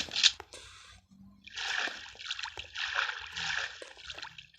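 Soldiers dunk into water during ambush training, with bursts of splashing and sloshing broken by short quiet gaps, heard close and fairly loud.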